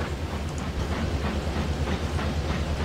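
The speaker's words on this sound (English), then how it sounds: "Oh, that good old diesel engine." A diesel train engine in the railway game Mashinky rumbles steadily with a low drone and faint rhythmic clatter, moderately loud and continuous, with no talk over it.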